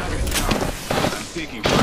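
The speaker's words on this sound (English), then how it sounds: "I'm taking fire." Several short loud bursts of gunfire in the Apex Legends battle royale game, played on Xbox Series X, crack in quick clusters close by.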